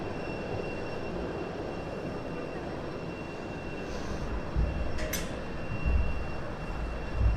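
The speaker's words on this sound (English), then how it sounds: "You can probably hear the train going past." A train rumbles past near Southend Airport, a steady broad roar with a few heavier thumps and a brief high metallic squeal partway through, fairly close and continuous throughout.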